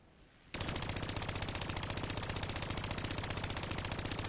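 A video game sentry gun opens up after a quiet moment and keeps hammering out sustained rapid automatic fire, loud and evenly pulsing to the end.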